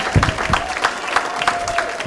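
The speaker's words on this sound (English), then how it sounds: "if everybody will just give a huge applause, just applaud, just go wild, go crazy for a minute" An audience gives steady applause, a dense wash of many hands clapping together at a moderate distance, fairly loud and sustained for about two seconds, with faint crowd murmur underneath.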